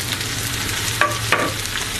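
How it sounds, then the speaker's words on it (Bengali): Eggplant pieces frying in oil with potatoes in a pan, a steady sizzle with two sharp utensil scrapes of stirring close by. "এবার আমি বেগুনগুলো দিয়ে দিচ্ছি।"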